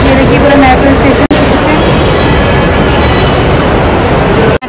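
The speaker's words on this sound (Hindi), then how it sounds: "और ये देखिए पूरा मेट्रो स्टेशन," Busy Delhi metro station ambience: a steady, loud wash of crowd murmur, train and machinery rumble filling the space throughout, with two brief sharp dropouts.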